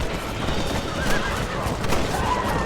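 Horse neighing in the video game Red Dead Redemption, a loud whinny over busy game sounds that run throughout, with faint hoofbeats and distant gunfire in the mix.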